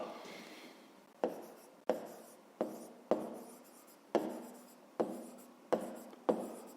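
Pen strokes on paper during a fifth-grade maths exercise, a series of about nine sharp scratchy writing strokes, each starting with a crisp attack and trailing off, close and fairly quiet with no talk.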